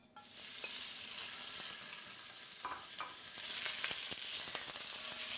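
Venison rib bones browning in a hot pan give a continuous bright sizzle, with scraping and clicking stirs breaking through and the frying growing louder toward the end; no voices.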